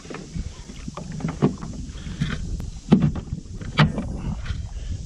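Old Town Topwater PDL pedal kayak gliding on open water, with soft hull splashes and water lapping in a few irregular bursts over steady wind buffeting the microphone.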